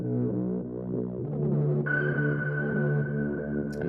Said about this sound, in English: Oh yeah, totally like a little sonar.